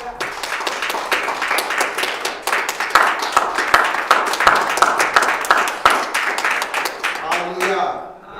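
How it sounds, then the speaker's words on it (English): A church congregation claps along at a lively service, producing loud, rapid, fairly even hand claps that keep going for several seconds before trailing off as a voice begins at the end. "Can we give y'all a hand clap for the word?"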